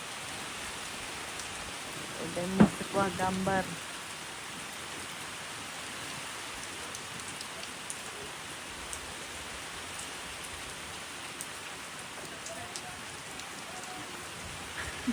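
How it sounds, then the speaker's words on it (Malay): Heavy rain pours steadily as a broadband hiss, with a brief burst of a voice speaking early on amid the downpour, in an outdoor setting in Batam. "Kita orang pun redah je hujan."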